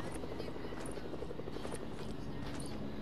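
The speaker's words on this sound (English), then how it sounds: "Oh frick, that's a helicopter." A helicopter in the video game Fortnite: constant, loud rotor thrum with a rapid chopping pulse that holds steady throughout, with no talk over it.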